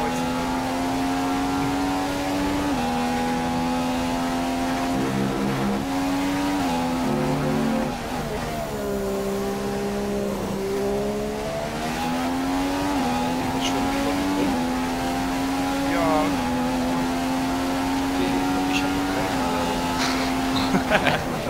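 Racing video game car engine droning steadily with rising and falling pitch as it shifts through gears, loud and continuous for the whole stretch, with people talking over it.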